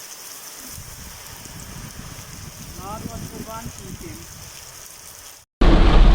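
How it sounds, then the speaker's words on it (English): Heavy rain from Tropical Storm Grace in Jamaica pours down in a steady, dense hiss with a nearby voice speaking over it, ending in a sudden louder burst of rain noise. "And it was some serious rain, you know."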